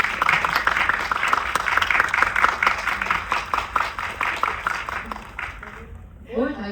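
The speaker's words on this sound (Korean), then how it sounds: "큰 박수로 전선희 배우를 환영해 주시기 바랍니다" Audience applause welcoming an actress onstage at a Korean film screening talk event, a dense sustained wash of many hands clapping that tapers off near the end, with a voice briefly speaking as it fades.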